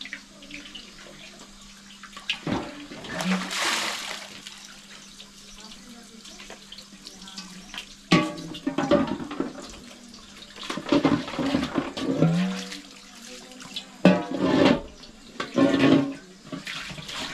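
Running water splashes intermittently during cleaning in a village kitchen where bread is made in a stone oven, with bursts of pouring and rinsing between quieter moments and people talking in the background.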